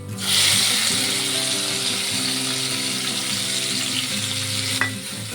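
Chopped tomato, cabbage, potato and onion fry together with ginger and garlic in a pan, a loud steady sizzle with a low rumbling hum underneath and one brief clink near the end.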